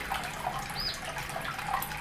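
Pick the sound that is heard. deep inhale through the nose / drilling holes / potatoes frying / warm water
warm water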